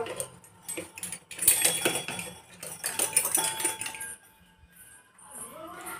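A metal spoon clinks and scrapes against a dish while food is served at home, several quick close-up clinks in irregular clusters, with quiet talk underneath.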